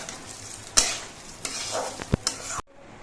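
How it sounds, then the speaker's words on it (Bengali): Gobindobhog rice being stirred and fried in a pan for basanti pulao, a close sizzle broken by several sharp spatula scrapes and knocks against the pan before it cuts off. "এবার নেড়ে চেড়ে মিশিয়ে নিতে হবে আর চালগুলো কিছুক্ষণ ভেজে নিতে হবে"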